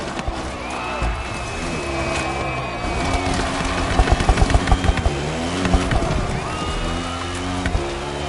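Car and motorcycle racing in The Crew Motorfest, with a KTM motorcycle and a Puma car on a split course: steady loud engine drone with rising whines, a burst of rapid revving pulses mid-race and continuous road rumble.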